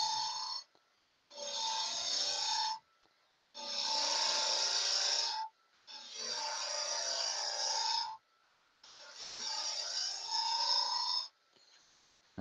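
Wood being hollowed out on a lathe for a small turned piece, heard as five long rasping, scraping passes of roughly two seconds each, separated by short pauses, close and fairly loud with no talking.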